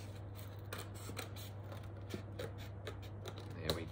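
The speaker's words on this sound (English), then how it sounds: "Push my scissors through. I use this hand to move the paper" Red scissors snip through paper to cut out a Halloween mask, a series of soft, close crisp cuts repeating at an uneven pace over a faint steady hum.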